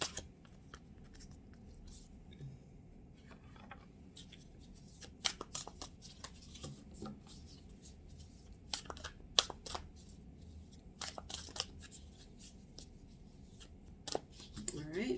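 Tarot cards shuffled and cut by hand, with repeated crisp riffling bursts and soft slaps over a low room hum, fairly close, with no talk over them.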